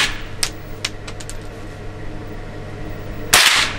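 Gunshots at a charity shooting competition: a few sharp, light cracks spaced apart at moderate distance, then one louder, fuller report near the end over steady background hum.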